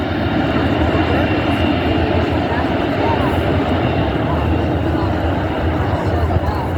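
A C-17 Globemaster III military transport plane roars loudly overhead at a seaside airshow, a dense, steady engine rumble filling the whole stretch, with spectators talking underneath.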